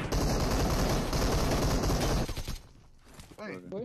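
Dense rapid gunfire in a video game roars continuously for a couple of seconds, then cuts off, leaving a brief voice at the end.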